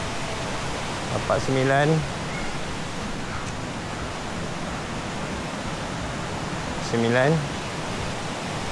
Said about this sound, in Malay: Anak sungai kecil ya.